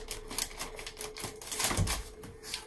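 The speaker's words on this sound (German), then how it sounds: "Meine Schere schneidet schlecht." Scissors cutting through drainage fleece, a rough, rasping snipping and tearing at close range, repeated in short uneven strokes while the blades cut poorly.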